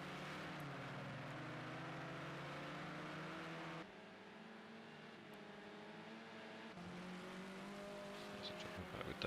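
Radio-controlled touring cars race around a track, their electric motors whining in faint, shifting tones that dip and rise as the cars pass and accelerate, heard from a distance.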